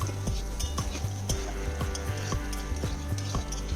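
Cashews and raisins frying in ghee in a pan, with a steady sizzle and a regular series of spoon scrapes and stirs roughly every half second, close and fairly loud, no voices.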